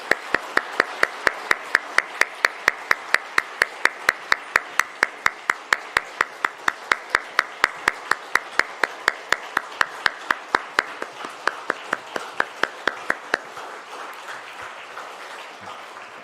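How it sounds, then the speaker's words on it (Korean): Small church congregation at a Korean family dawn prayer service clapping in unison, an even, regular beat of sharp claps in a room that runs for about thirteen seconds and then stops. "다시 한번 박수하겠습니다."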